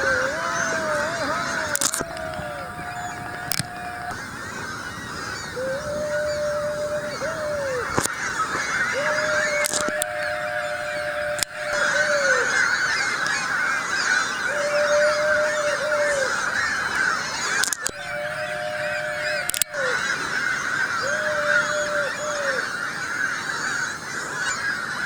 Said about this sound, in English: A bunch of dumbass seagulls.